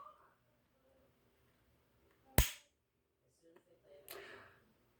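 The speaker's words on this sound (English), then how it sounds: "that metallic click was the sound of my weapon firing" A sharp metallic click of a handgun dry-firing inside a modified holster, a single crisp snap in near silence, followed by a softer rustle and scrape a moment later.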